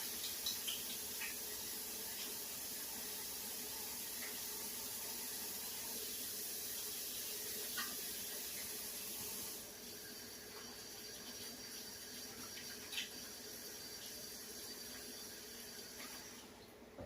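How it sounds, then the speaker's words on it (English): Running tap water splashing into a kitchen sink while hands are washed, a steady hiss that softens partway through with occasional small knocks, fairly quiet and with no talk. "Wash my hands."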